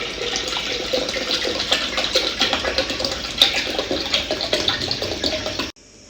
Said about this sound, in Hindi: सबसे पहले ये हम जग में पानी शामिल करते हैं।